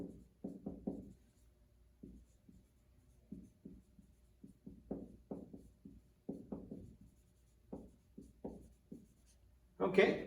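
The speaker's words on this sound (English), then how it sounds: "So I'll just write that up here." Writing on a board during a lesson: quiet, close scratchy strokes in short rhythmic clusters, steady and alone with no talk until a louder tap at the end.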